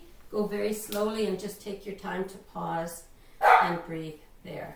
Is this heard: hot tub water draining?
no